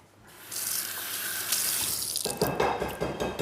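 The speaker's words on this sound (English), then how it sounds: "to get the flour to stick to our cauliflower, I'm going to run it under a little bit of water" Tap water runs steadily from a kitchen faucet over a cauliflower held in the sink while flour-coated cauliflower is being prepared, a continuous close splashing hiss that grows busier and more uneven toward the end.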